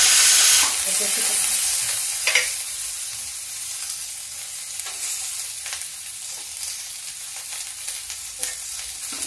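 Onion frying in a pan for pumpkin curry with fenugreek, a steady soft sizzle with occasional stirring scrapes, close and even throughout.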